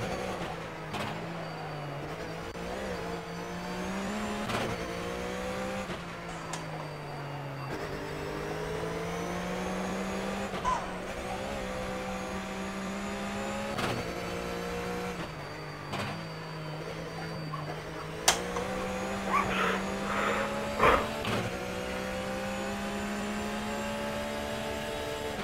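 Race car engine in the rFactor sim racing game, Flat6 FunCup at Mid Ohio, a steady droning motor that rises and falls in pitch through gear changes, with occasional sharper knocks and clicks.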